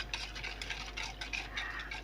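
A spoon stirs a cold mixture of milk, custard powder and sugar in a pot or bowl, scraping and clinking in a quick, repeated rhythm, close up with no voices.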